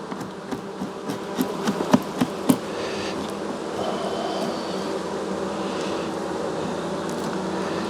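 Honey bees swarm and drone around an opened hive during a late-season colony check, a dense close hum with a few sharp knocks early on and no voices.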